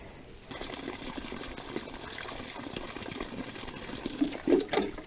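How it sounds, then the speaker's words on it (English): Water is poured from a container into a planting hole in garden soil, making a continuous mid-level gushing and splashing with a few gurgles near the end. "pour some water in this hole, let it drain"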